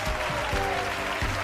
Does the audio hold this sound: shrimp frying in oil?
no